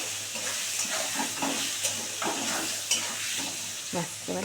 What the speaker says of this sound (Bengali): আলুটাকে লাল করে ভাজতে হবে